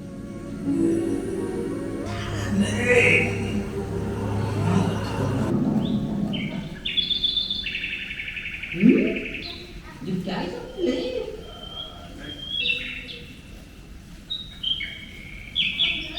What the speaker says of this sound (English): Here we went back to the fairy tale forest to catch the Chinese nightingale that we didn't get to see the day before.